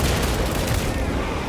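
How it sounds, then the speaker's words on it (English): Dense, sustained burst of explosive battle noise from a stun grenade in the Warhammer 40K Space Marine 2 video game, a loud continuous roar of blasts and gunfire with no clear gaps. "Stun grenade prime!"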